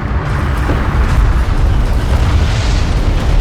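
An enemy railgun fires in the real-time strategy game Homeworld: Deserts of Kharak, a loud continuous rumbling boom with dense low-end roar and crackling bursts that do not let up.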